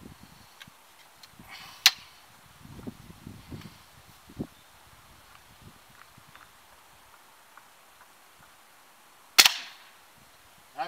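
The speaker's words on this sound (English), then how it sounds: "I'm purposely shooting all over the place on that board there just to show you that this thing does have some penetrating power" An RWS Model 48 spring air rifle fired at a wooden board outdoors. Two sharp, loud reports stand out several seconds apart, with fainter ticks and rustling between them and no talk.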